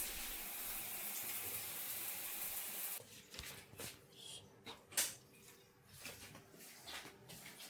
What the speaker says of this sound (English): Shower.